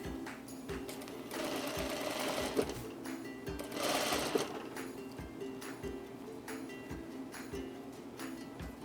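A sewing machine stitches an invisible zipper into a partially lined garment, a steady close mechanical whirr with a rhythmic ticking that runs throughout.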